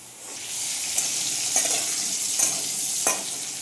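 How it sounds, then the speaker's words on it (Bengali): Tomato frying in oil in a pot before lentils go in, a steady bright sizzle broken by several spoon stirs and scrapes at regular intervals, close and alone. "টমেটোটা ভেজে নেবো ভালো করে টমেটোটা একটু গলা গলা হোক"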